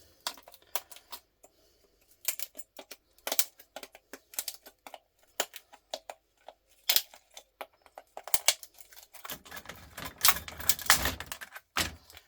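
An old CRT circuit board is scored with a tool in irregular sharp scratches and clicks that come close and alone, with a denser burst of scraping near the end.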